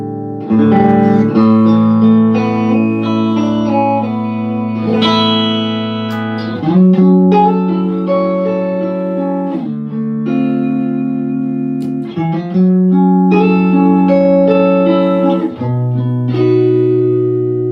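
A loud electric guitar plays sustained chords through a driven amp with its master volume turned all the way up, ringing out with rich overdriven tone and clean note changes.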